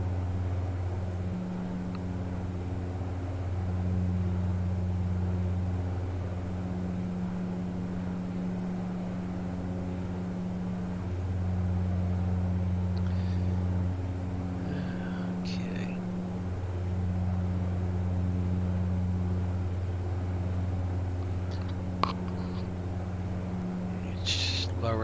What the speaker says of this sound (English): Lower the sound of this engine a little bit.